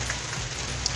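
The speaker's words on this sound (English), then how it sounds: "Anyway, it's raining." Steady rain during the rainy season in Nigeria, a dense continuous hiss of drops on surfaces with a few closer individual drips, moderately loud and unbroken, with no voices.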